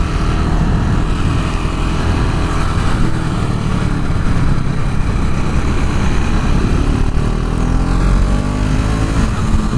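A KTM Duke 690 R single-cylinder motorcycle engine roars steadily at full throttle, loud and close, mixed with rushing wind noise.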